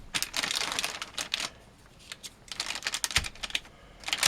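Packaging around a 2-terabyte hybrid hard drive being opened by hand: crackly, crinkling plastic rustles come in uneven bursts, close and fairly quiet, with a short lull midway.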